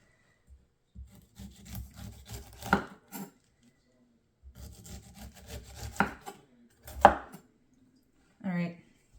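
A knife trims the edges of a pineapple on a cutting board, giving several short bursts of scraping, chopping cuts with pauses between them and a sharper final stroke, close and fairly quiet, with no talking.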